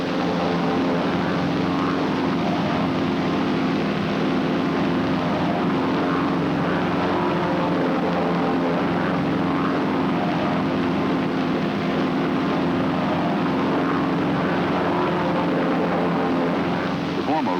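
Propeller airplanes flying in close formation drone loudly and continuously, a dense, unbroken engine roar that holds steady throughout.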